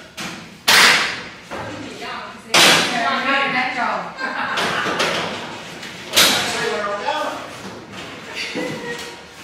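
Several heavy thuds of a car door slamming shut, loud and close, with people talking in between, during torsion and beam testing of a BOSS XC car.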